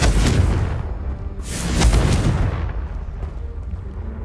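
The Confringo blasting spell in Hogwarts Legacy sets off two heavy, booming explosions in quick succession. Each blast rumbles loudly and then fades into a lingering low tail.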